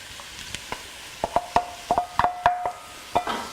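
Butter melting in hot oil for a turkey ragu, stirred with a utensil that knocks and scrapes against the pan in a loose, irregular rhythm over a faint sizzle.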